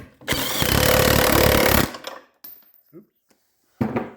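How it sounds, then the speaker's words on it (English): An impact gun fires one loud, close burst of about a second and a half while tightening the bumper mount bolts on a Jeep Cherokee XJ. Small clicks and a brief second burst follow. "they even engineered holes so you can get your impact gun through there to tighten them down"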